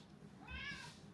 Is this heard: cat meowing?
yes